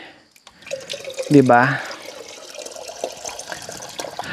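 Clear water trickles and drips from a mountain spring in Aeta highland country, a soft, continuous flow with a few brighter splashes while people talk nearby.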